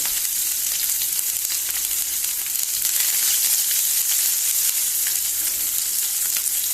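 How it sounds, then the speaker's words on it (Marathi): Garlic and chopped onion frying in hot oil in a pan for a Goan jackfruit-seed dish, a steady close sizzle that holds evenly throughout with no talk. "भितर लसूण घालुया आनी बरो कांदो न्ही बरो ब्रावन करुया।"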